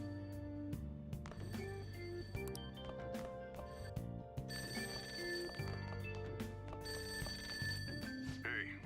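A payphone rings inside the video game Persona 5 Royal, its repeated bell tones layered over steady in-game music with no talking.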